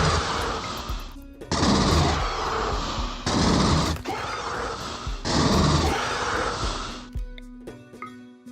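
Pulse rifle gunfire in the RimWorld video game, heard as three long sustained bursts of loud, buzzing rapid fire separated by brief gaps, then trailing off into quieter scattered sounds.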